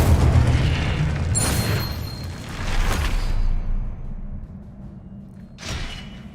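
Incendio fire spell cast in Hogwarts Legacy, a deep booming whoosh of flame that swells and rolls for a few seconds before a shorter burst flares near the end.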